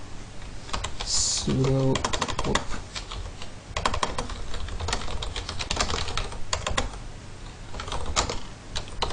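Rapid keystrokes as a command is typed on a computer keyboard in a Linux terminal, a steady clatter of clicks running through most of the stretch, close and fairly loud, with someone talking over it briefly.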